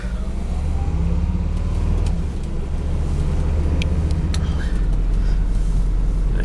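Turbo car engine cranking over and then settling into a loud, steady rumbling idle, heard close up with no talking.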